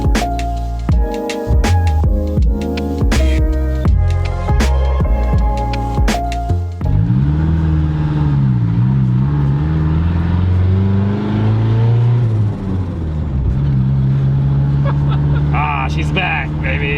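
A mid-engine Mitsubishi Eclipse runs loud and close, with a choppy burst of engine noise at first, then a wavering, uneven drone that rises and dips; people talk over it.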